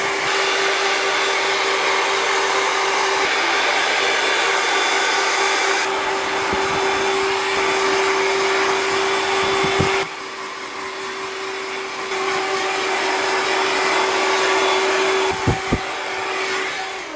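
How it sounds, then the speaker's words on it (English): A hair dryer on high speed and medium heat blows hair dry at close range, a loud constant whooshing drone with a steady whine, shifting slightly as it moves around the head, with a few small clicks near the end. "So, high speed, medium heat. And just blow dry this from underneath, all into the middle, and work around the ear like that"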